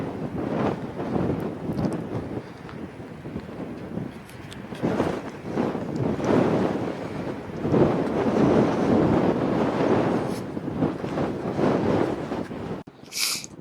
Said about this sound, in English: So the wind up here is very strong now. So I'm guessing the microphone is struggling now.